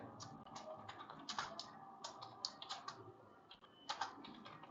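Quiet, rapid keystrokes on a computer keyboard while writing a shell script, irregular bursts of clicks alone with no talking.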